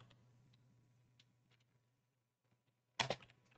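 Typing on a computer keyboard, sparse soft key taps over a low hum, then a quick loud burst of clustered keystrokes near the end.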